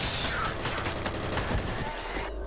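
Dense gunfire fills a firefight in the F.E.A.R. shooter game, with rapid overlapping shots that hold loud and steady throughout, ending in a low boom.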